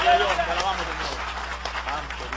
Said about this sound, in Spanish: Hay un aplauso de alabanza al Señor